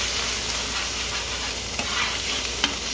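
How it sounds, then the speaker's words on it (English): Vegetables frying in a pan, stirred with a spatula, a steady loud sizzle with a couple of sharp scraping clicks near the end, no voices. "Stir it around. I want the veggies to cook a little bit more before I put the steak in."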